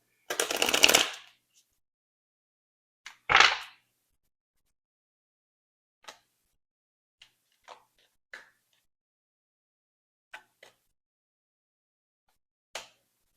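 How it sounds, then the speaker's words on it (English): Tarot cards are shuffled by hand. A louder riffle opens, a second burst follows, then scattered faint taps and card slides come at uneven intervals against near silence. "Let's shuffle a little more."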